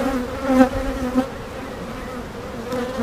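Honey bees buzz around an open hive close to the microphone, a steady droning hum with a couple of brief louder passes of individual bees.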